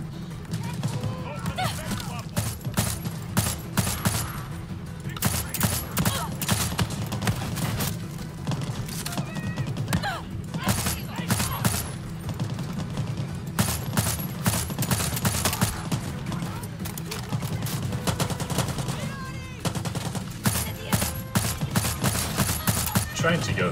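Rapid bursts of gunfire from the video game Far Cry 6 crack out in dense, repeated volleys across the whole stretch, loud and near, with a voice speaking at times beneath the shooting.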